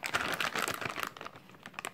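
A plastic packaging bag holding a black Power System PS4055 rubber training loop is crinkled and torn open at the side, a dense run of close, loud rustling and crackling that thins out into a few sharper crinkles.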